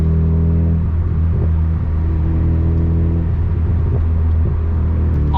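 Mazda MX-5 MK2 cruising at about 30 mph on a UK road, a loud steady low engine drone with a slight dip and shift midway, heard from inside the cabin with no talking.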